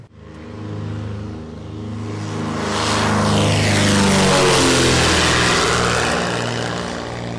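A small propeller airplane flies near Palawan, its steady droning engine hum swelling as it passes close overhead, then easing slightly as it moves on, with no voices.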